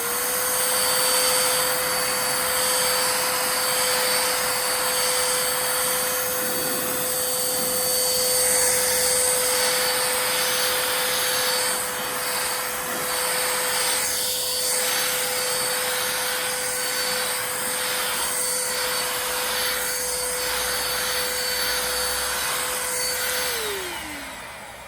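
A RYOBI 18-volt portable vacuum cleans a couch with a constant whining motor drone that runs nearly the whole time, broken by scraping, rubbing bursts as the nozzle works the cushions, then the motor winds down at the end.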